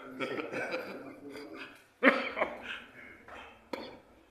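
A man coughs a few times, short sharp bursts amid quiet indoor chatter and light laughter at a business interview.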